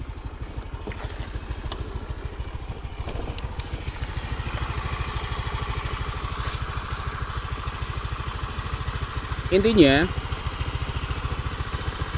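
A Honda Vario 110 scooter engine idles steadily during an oil circulation and leak check, a close, even low putter running throughout while someone talks over it.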